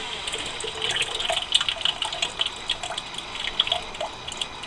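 Yeast slurry from a previous brew poured into a beer fermenter for a hazy DIPA, a steady splashing, trickling pour with bright droplet plinks throughout, close and continuous.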